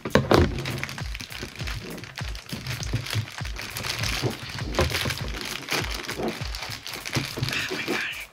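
Doll packaging being opened during an unboxing: crinkling plastic and cardboard, sharp tearing and crackling snaps, and a series of dull thunks and pops at close range that continue throughout, with brief talking mixed in.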